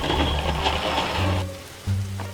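Steady patter of rain in the video game 99 Nights In The Forest with a soft hiss, joined by low droning tones and a brief thud near the end; no one speaks.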